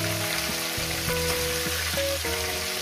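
Rohu fish heads fry in hot oil with a dense, steady crackling sizzle that is close and fairly loud. It runs alone, and low tonal hum and clatter sit underneath.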